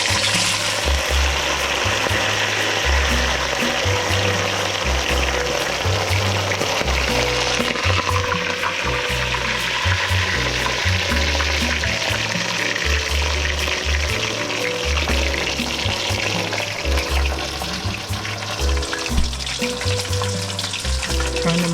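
Seasoned, marinated fish frying in hot oil in a pan, a loud continuous sizzle with steady crackling throughout.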